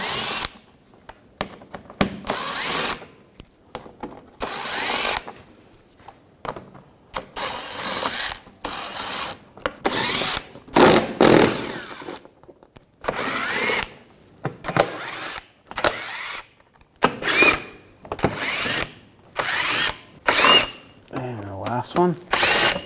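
Power tool driving out the 8 mm shield bolts under a 2007-2013 BMW 328i, repeated short whirring and ratcheting bursts with brief gaps, close and loud, with someone talking in between.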